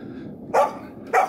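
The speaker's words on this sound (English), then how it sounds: "obsessively barking, spinning Labrador Retriever waiting for me to take the dummy" A Labrador Retriever, excited while waiting for a retrieving dummy to be thrown, gives two sharp, close barks spaced about half a second apart over a quiet background.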